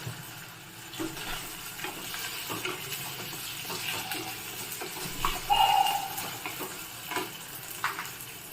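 Cooked adai pieces being sautéed in a pan with a steady soft sizzle and scraping stir strokes throughout, a few louder clinks near the middle, no talking.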